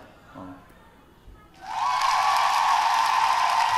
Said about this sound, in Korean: 박수 소리 좀 작네. 그죠?